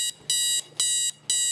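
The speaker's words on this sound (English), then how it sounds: "that's just my Sharp super loud alarm clock with night light" A Sharp SPC-1180 alarm clock with night light rings on its super loud setting: three bursts of harsh, high electronic beeping, each about a third of a second long, separated by short gaps, close and loud with no talking.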